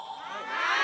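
Wedding guests at a Vietnamese ceremony cheer and shout together in a rising crowd roar, growing louder over less than a second.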